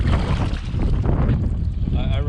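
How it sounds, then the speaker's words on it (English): Strong gusting wind buffets a canoe on big open water, a loud continuous roar of wind noise across the microphone with water sloshing beneath, steady throughout. "there was like a really strong wind that hit me from the side"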